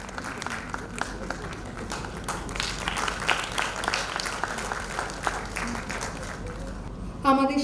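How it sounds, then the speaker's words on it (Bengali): An audience at the Anandamela 2025 cultural gathering claps steadily to welcome an honoured guest, a dense, even applause running without speech before a brief clatter near the end. "করতালি দিয়ে আমরা তাকে স্বাগত জানাই।"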